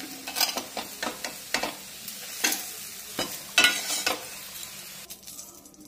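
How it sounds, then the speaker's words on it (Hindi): Corn sizzling in hot oil in a pan over a low-medium flame, a steady crackling fry broken by repeated scraping stir strokes, close and fairly loud, with no voices. "लो मीडियम फ्लेम पर हम फ्राई करेंगे"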